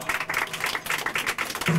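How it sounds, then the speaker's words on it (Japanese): Audience applause at an eighth-anniversary live show, a steady dense patter of clapping for about two seconds, fairly close and moderately loud, with a brief voice-like murmur near the end. "岩田さん、上清水さんにもう一度拍手をお願いします。"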